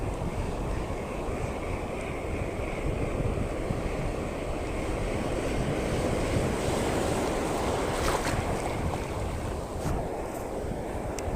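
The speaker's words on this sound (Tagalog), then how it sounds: "Ang lakas ng alon guys, ano?" Strong ocean waves roll and crash continuously on a shore at a fishing spot, steady and close, with loud surf and wind buffeting throughout, no voices.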